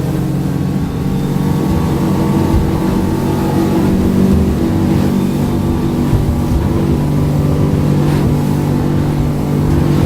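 A Duckworth 240 Offshore boat's engine drones loud and steady close by, a throaty hum that holds high revs throughout with water rushing underneath.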